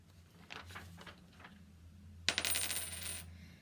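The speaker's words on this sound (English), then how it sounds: "So I'm going to flip one." A coin is flipped and lands on a hard surface, giving a sharp metallic clatter and a short ringing rattle as it settles, close and clear after a few faint soft rustles.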